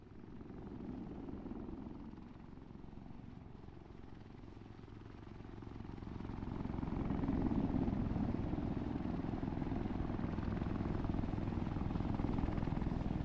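Helicopter in ARMA 3 during a freefall training session, a steady whirring rotor and engine drone that swells louder about halfway through, with no talk.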